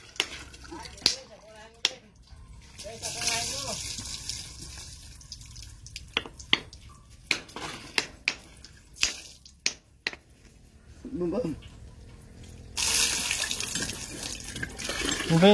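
Water runs intermittently from a tap for bathing, with gushing bursts, splashes and drips, interspersed with sharp knocks and brief voices, ending in a louder steady flow.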